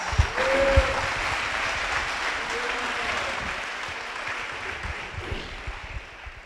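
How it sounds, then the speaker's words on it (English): Audience applause at a hall of fame and state championship awards ceremony, steady, dense clapping filling the room, with a few cheers and whoops early on, slowly tapering toward the end. "Please, round of applause again for Terrell Adams."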